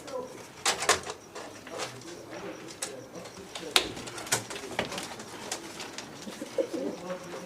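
Pigeons coo close by in a loft with soft repeated throaty calls, mixed with wing flutters and small scuffling knocks. A faint voice can be heard in the background.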